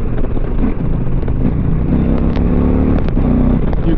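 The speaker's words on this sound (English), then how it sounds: "You can ride this bike fast." A 2020 Indian Challenger Limited motorcycle under way, its engine droning loudly and steadily with a low throbbing note and slight shifts in pitch, close to the microphone with wind noise and no talk.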